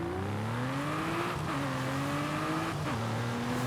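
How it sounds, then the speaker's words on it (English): Aston Martin Vanquish Zagato engine in Forza Horizon, a steady mid-revving drone with harmonic tones that climb gradually, dipping briefly at two gear shifts before rising again, loud and continuous with no talk. "we did get the Aston Martin Vanquish Zagato, so let's go take that for a test drive"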